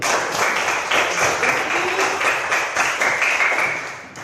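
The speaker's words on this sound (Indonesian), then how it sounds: "Tepuk tangan untuk Mawar Farudin." A classroom of students claps for a classmate after a good answer, a steady burst of light, fairly close hand claps lasting a few seconds and fading at the end.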